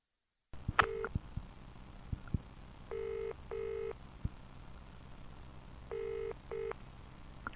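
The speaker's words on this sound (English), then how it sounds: "Craig's Crank Phone Calls." Touch-tone dialing for a prank phone call: a short burst of keypad tones, then separated pairs of beeps after a pause, faint handset hiss underneath and no talking.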